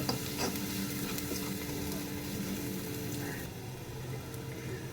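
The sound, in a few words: onion frying with asafoetida in pan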